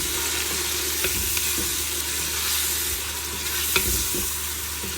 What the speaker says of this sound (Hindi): ये लहसुन, अदरक और टमाटर और हरी मिर्चें मैंने शामिल कर दी हैं और इसके साथ ही ये मसाले भी डाल दिए हैं और इसको ज़रा अच्छे तरीके से हम भून लेंगे